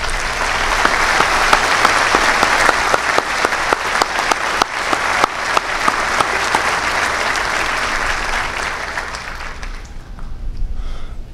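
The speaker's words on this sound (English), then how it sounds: "give all of the instructors here a round of applause." An audience at a Naval War College graduation ceremony claps together in sustained, loud applause with sharp individual claps standing out, then it fades away near the end.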